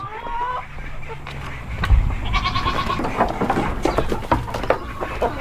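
Goats bleat repeatedly, close and loud, amid shuffling hooves and barnyard movement.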